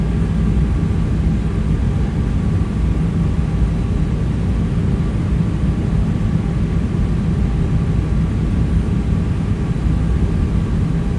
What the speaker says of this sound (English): at this point we're taxiing out